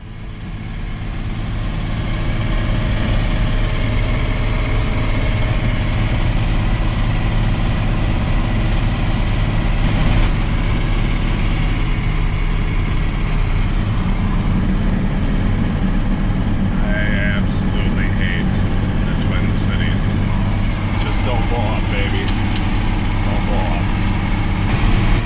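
A vehicle cruises along four-lane roads through the Twin Cities, its engine and road noise forming a constant low drone for the whole stretch. A voice is heard briefly over it partway through.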